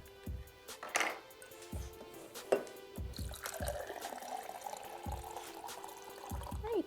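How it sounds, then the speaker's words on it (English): Tap water pouring from a home filtration system into a container, a soft trickle with irregular drips and light knocks, heard close and quiet without talking. "So now I'm going to get some water from this filtration system, which came out of our tap."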